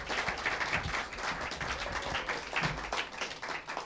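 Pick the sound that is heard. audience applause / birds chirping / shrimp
audience applause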